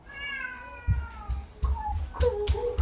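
A cat meows several times in quick succession, close by, with soft thumps and rustling in the background.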